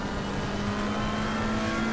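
A race car engine in Assetto Corsa Competizione at Zandvoort drones at a steady high pitch, loud and close, as one car overtakes another, with the engine note holding constant throughout the brief clip.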